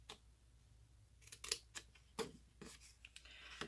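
Scissors cutting along score lines in card stock for a handmade thank-you box, a series of short crisp snips in uneven rhythm, close and fairly quiet with no talking.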